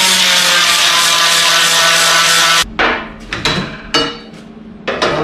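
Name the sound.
grinding off a piece of metal for a bullbar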